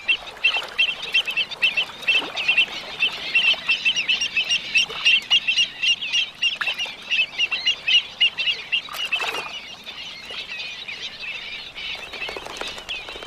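Many birds call over a shallow lake, a dense chorus of honking, quacking cries with rapid overlapping bursts, louder at first and then thinning to a quieter stretch.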